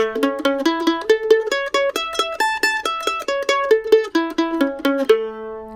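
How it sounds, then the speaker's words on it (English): Mandolin playing a staggered sixteenth-note arpeggio in A, climbing two octaves and back down in quick, evenly plucked notes, close and clear with no talking, ending on a held low note. "let's run all the way up 2 octaves of the staggered 16th note arpeggio in A"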